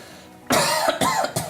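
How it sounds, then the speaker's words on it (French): A patient coughs during a medical hernia examination, two or three close, loud coughs in quick succession with no talk. "Allez, toussez."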